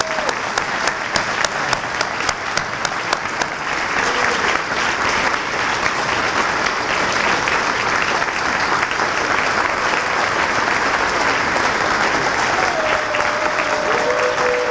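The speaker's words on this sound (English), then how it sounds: "I just want to recognize Kathy McKay and give her a round of applause also." Sustained audience applause fills a banquet room at an insurance association awards dinner, steady and dense for the whole stretch, with a faint voice briefly surfacing near the end.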